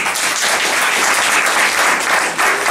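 A church congregation applauding, a dense, continuous wash of clapping from many hands, loud and close, sustained throughout.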